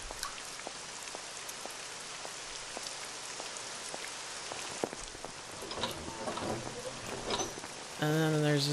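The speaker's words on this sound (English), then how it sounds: "Rainy days. I like the rain." Steady rain patter in the video game Syberia, an even hiss with scattered drop ticks, joined near the end by louder rustling and a tonal game sound.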